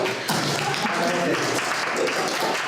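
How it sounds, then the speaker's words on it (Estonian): Audience applause at a school film festival, a steady, dense wash of clapping that fills the whole moment without pause. "Aplaus."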